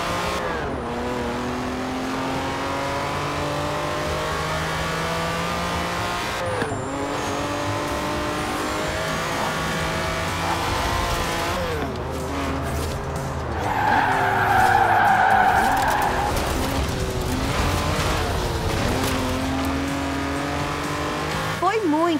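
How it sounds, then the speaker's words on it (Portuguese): A Lamborghini Countach in Forza Horizon 4 roars as it accelerates, with long tire squeals and skidding rising midway, the engine loud and close throughout alongside talking. "Olha, esse carro só quer acelerar."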